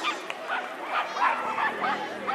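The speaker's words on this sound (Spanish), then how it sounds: "Schnauzer Perro" A three-year-old schnauzer at a pet exhibition gives a string of close, high yips and whimpering barks, with voices in the background.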